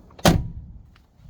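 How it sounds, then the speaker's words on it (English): A 1978 Mercedes 300SD W116 turbodiesel's door swings shut with a single solid, close thunk that fades quickly, followed by faint light clicks. "Doors closed like they should."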